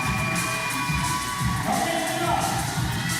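An indoor crowd cheers and whoops at a lead climbing championship final in Gothenburg, lively shouts rising over a steady background roar.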